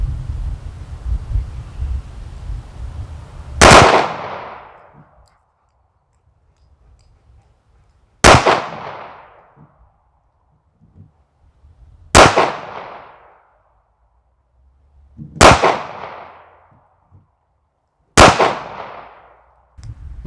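Used 2011 Rock Island Tac Ultra FS 9mm pistol fired outdoors. Five sharp, loud single shots come several seconds apart, each followed by a short echoing decay and quiet in between.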